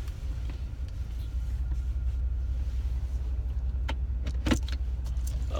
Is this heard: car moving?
yes